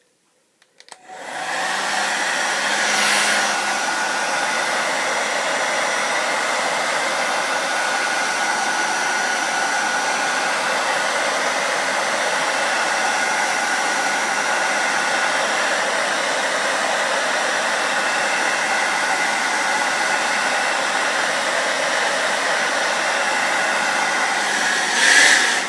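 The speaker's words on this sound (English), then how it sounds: "just move the hairdryer backwards and forwards several times, about 2 or 3 centimeters away from the spine, just to heat it up" A hair dryer blows continuously at close range for the whole stretch, heating the spine of a steelbook case to soften its glue; the whoosh stays steady and loud with slight shifts as it moves back and forth.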